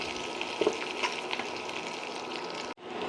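Green chillies and curry leaves fry in hot oil in a kadai for onion thokku, giving a steady, close sizzle with a few sharper crackles. It cuts out abruptly near the end.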